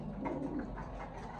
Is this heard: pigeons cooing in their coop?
yes